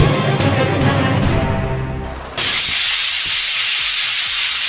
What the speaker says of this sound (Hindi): अभी जो कुकर की सीटी बजी है